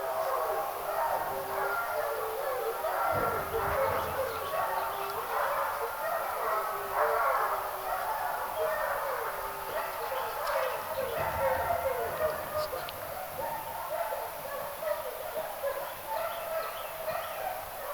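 A pack of German shorthaired pointers howls together in a long, wavering chorus that rises and overlaps for many seconds, with a voice speaking briefly.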